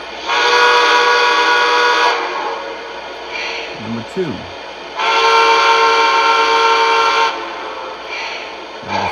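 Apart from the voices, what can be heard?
Lionel AC-9 model train steam whistle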